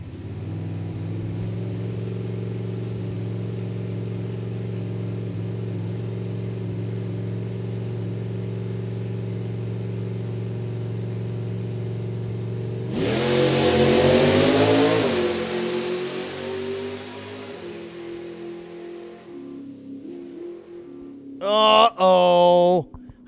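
Two drag racing cars, a 2014 Camaro and a 1964½ Falcon, idling loudly with a steady low drone before launching in a sportsman final, a roaring burst of acceleration that fades, then a second sharp high revving blast near the end.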